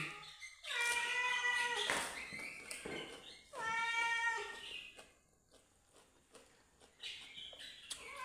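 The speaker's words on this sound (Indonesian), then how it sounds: "Ada kucing." A cat close by gives several loud, drawn-out meows in separate bursts, with quieter rustling in between, at a home during a meal of tilapia in coconut milk with fern stir-fry, sambal and raw vegetables.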